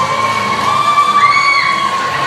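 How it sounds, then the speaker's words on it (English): An independent wrestling crowd at an EMERGE Outbreak Championship match cheers and shouts continuously, with high whoops and whistles rising over a sustained roar. "And the crowd absolutely adoring Brayden."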